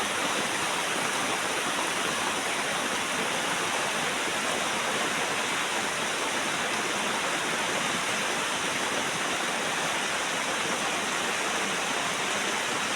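Heavy rain pouring down outside a house, a steady, dense, unbroken hiss that stays loud and even throughout with no voices.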